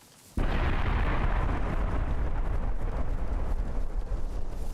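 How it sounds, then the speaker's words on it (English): Gas barrage shelling in the survival game DayZ: a sudden loud onset after a quiet moment, then a sustained, dense roar of overlapping blasts and rumble that continues steadily to the end, with no talking. "that's a gas barrage"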